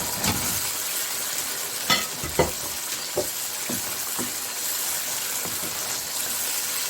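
Koftas fry in a thick curry masala with a steady, close sizzling hiss, broken by a few scraping stirs of a spoon against the pan.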